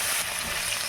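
Onions frying in a pan in Bengali home cooking give a steady, close hiss of sizzling oil that stays loud and unbroken through the short moment, with no voices.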